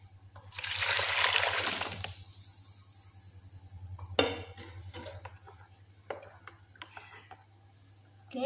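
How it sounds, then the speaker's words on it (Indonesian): Water is poured into a large basin, a rushing splash of about one and a half seconds, followed by a few light knocks and clatters against a low steady hum. "Tuangkan sini airnya."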